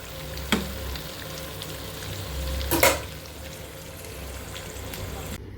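Pointed gourd frying in a pan, a steady low sizzle with a couple of sharp utensil knocks, while someone talks.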